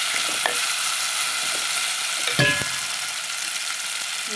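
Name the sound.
frying masala in a pan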